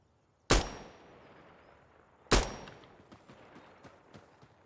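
Two sharp, loud gunshots in the online shooter game Sandstorm, about two seconds apart, each ringing out with a long echoing tail, followed by a scatter of fainter distant shots.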